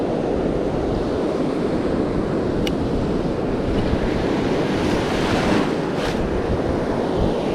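Ocean surf waves break and wash continuously onto a fishing beach, loud and close, mixed with gusting wind buffeting the microphone, with no talking.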